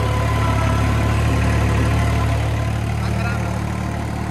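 A tractor engine idles steadily at about 1500 rpm, a loud, close, continuous low rumble with an even throb and no change in pace.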